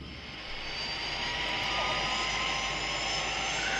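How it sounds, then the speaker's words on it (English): Jet fighter plane flying overhead, a steady loud roar that swells in after the first half second and holds broad and continuous, with no talking. "That plane. One of the new jet fighters."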